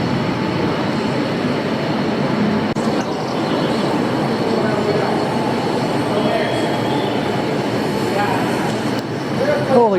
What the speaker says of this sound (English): It's Union Station and a little subway train behind